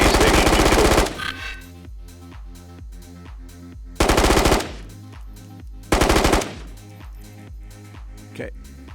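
Bursts of LMG machine gun fire in the VR shooter Ghosts of Tabor, three loud rapid volleys of about a second each separated by quieter stretches, with no talk.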